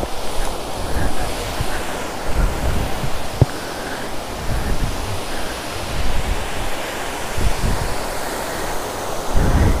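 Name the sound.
Ananthagiri waterfall rushing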